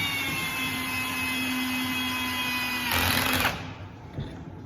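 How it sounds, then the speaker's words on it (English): A steady motor whine runs, then a harsher burst of a power drill slowly driving a pocket-hole screw through a Kreg Jig into a board before it stops, close by with no talking. "I line up my drill and my screw, and I'm gonna go nice and slow"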